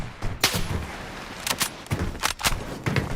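Gunfire in the video game Bloodstrike: sharp, close shots crack out in quick irregular bursts, some single and some doubled, over a low rumbling background.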